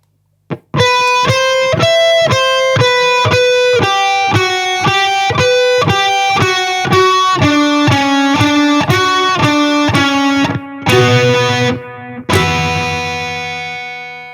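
Ukulele lick played slowly through heavy distortion, a steady run of sustained, buzzy picked notes stepping in pitch one after another, ending with a couple of louder ringing chords fading out.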